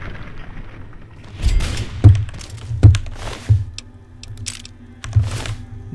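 A shotgun fired repeatedly in the video game Fallout 3, about five sharp, punchy low blasts at irregular intervals, each ringing briefly against a quiet background.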